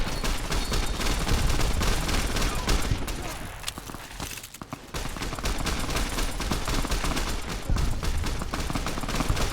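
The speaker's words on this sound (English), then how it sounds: "I decided to use my Lancer gun." Laser RCW 'Lancer' firing in Fallout: New Vegas, a dense sustained stream of rapid energy-weapon shots filling the whole stretch, with a brief lull in the middle before the barrage resumes at full loudness.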